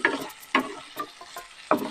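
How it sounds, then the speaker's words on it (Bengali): Fried potatoes being stirred through spice masala in a pan, giving four or five distinct scraping stirs in an uneven rhythm over a light sizzle, close and fairly quiet, with no talking. "আলুটা ভালোভাবে কষাই করা হয়ে গেছে"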